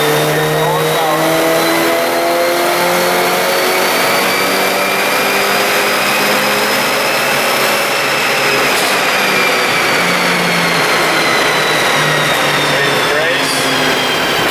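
Volkswagen Mk6 GTI with a stage 2 tune revving hard on a dynamometer, a loud, sustained engine roar climbing steadily in pitch through the gears for the whole stretch, with no pauses.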